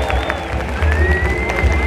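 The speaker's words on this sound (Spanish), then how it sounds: "¡Fuerte aplauso!" Comedy show audience in Logroño breaking into applause and cheering, a dense crowd noise with clapping and shouts under a low rumble, fairly loud and continuous for a couple of seconds.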